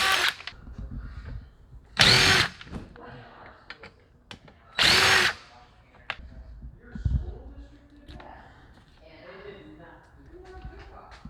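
A power drill removes the body screws from a Burromax mini bike in two loud whirring bursts a few seconds apart, separated by quieter handling noises and a low voice.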